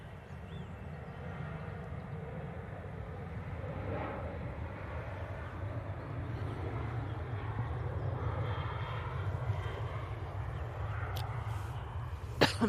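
A Boeing 737-800 jet airliner at Manchester Airport produces a faint, distant engine rumble that swells gently midway, with a couple of small knocks near the end.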